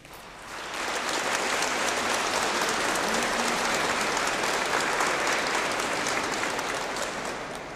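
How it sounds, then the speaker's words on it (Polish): A large gathering in Białystok bursts into applause, rising sharply after a brief quiet start into thick, even clapping that stays loud and unbroken before easing slightly at the close. "Dobrze, sobie brawa bijecie"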